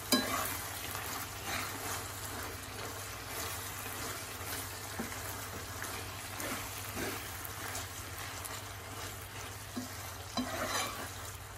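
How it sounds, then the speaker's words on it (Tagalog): Ginataang patani, lima beans in coconut milk, cooks in a pan while being stirred, a soft steady simmering hiss with light scraping and bubbling, fairly quiet and without speech. "Then haluin lang natin."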